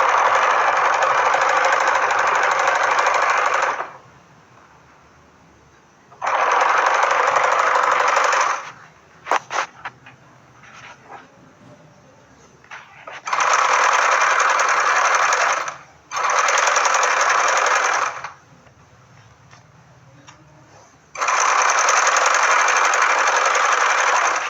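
An electric sewing machine stitching a salwar runs in five loud, buzzing bursts of a few seconds each, separated by quiet pauses with faint handling clicks of the fabric.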